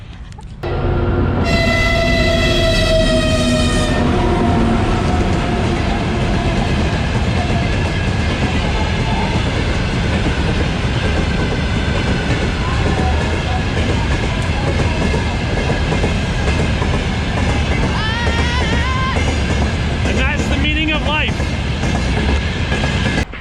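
A train horn sounds at the start, then a heavy sleeper train from China rumbles steadily along the tracks into Ulaanbaatar, Mongolia, with a constant loud mechanical roar and faint voices.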